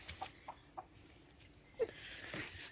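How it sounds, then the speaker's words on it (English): Rhode Island Red chickens out on a French farm give a few soft, short clucks at a distance, spaced irregularly, with faint rustling and brief bits of movement between them. "And you've got two Rhode Island Reds there."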